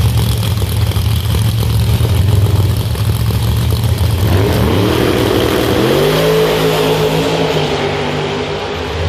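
Outlaw drag racing car at Beech Bend Raceway jumping early on the launch with its trans brake failing to hold; a loud close engine drone rises into a sweeping rev, then fades slightly.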